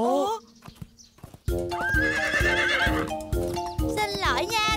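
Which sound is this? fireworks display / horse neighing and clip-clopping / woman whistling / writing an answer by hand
horse neighing and clip-clopping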